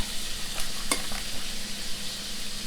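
Shrimp fry in a hot pan with a steady, broad sizzle throughout, near and fairly loud, broken by a few sharper clinks and scrapes of stirring around the first second; no talking.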